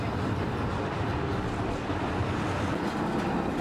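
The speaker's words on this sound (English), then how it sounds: "taking the scenic tram that runs along the Pest embankment of the Danube from the market to the Parliament building" A scenic tram runs along the Pest embankment of the Danube in Budapest, passing under Elizabeth Bridge, giving a steady, close rumble of wheels on rails with a continuous low drone throughout.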